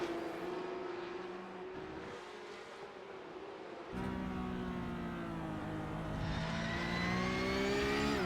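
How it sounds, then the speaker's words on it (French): Porsche Cup race cars run on a circuit, their engines droning loud and steady, then swelling as a second car closes in and the revs climb together toward the end. "Mérino qui est vraiment pas piqué des verres là, dans ses voitures aux couleurs Ferrari"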